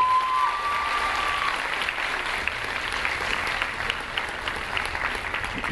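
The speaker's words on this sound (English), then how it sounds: "So give yourselves a round of applause." A school audience gives a full round of applause at Nick Jacobs's announcement, a thick, even wash of clapping that holds steady and loud throughout without any voices.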